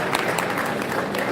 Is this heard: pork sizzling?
no